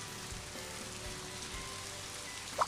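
Soft, steady rain patters in a continuous hiss in Scribblenauts Unlimited, fairly faint, with a brief brighter blip near the end.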